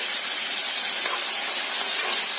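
Green peas hit a hot pan for a vegetable cutlet mix, giving a loud, steady, close-up hiss of sizzling that holds evenly without pause.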